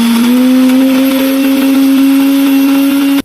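A kitchen blender whirs loudly and steadily, grinding a yellow spice paste for a turmeric broth dish, its motor holding one high, constant tone for about three seconds before cutting off abruptly.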